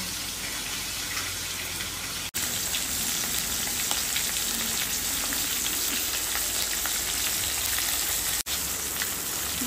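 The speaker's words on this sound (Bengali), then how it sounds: "মাছের মাথাটা ভালো করে ভেজে নিতে হবে" A fish head frying in oil in a pan, giving a loud, steady close sizzle and crackle that runs on without a break, briefly cut twice, with no voices.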